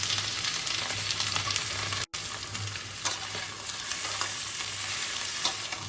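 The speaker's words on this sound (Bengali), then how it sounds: "এবার আমি চিকেনটা দিয়ে দিচ্ছি।" Boneless chicken in medium pieces fries in a pan for pineapple chicken, an even, close sizzle with soft scraping stirs and a brief dropout midway.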